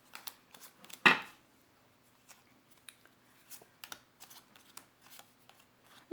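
A deck of cards is handled and rearranged: quiet, scattered flicks and taps with one sharper riffling snap early on, close and soft, with no talking.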